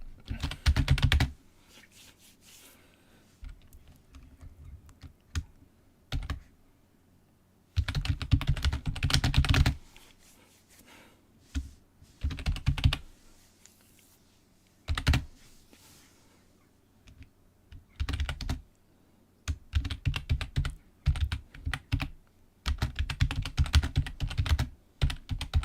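Typing on a computer keyboard while making a Dungeons and Dragons character, heard as bursts of rapid, close keystrokes separated by short pauses, with no talking.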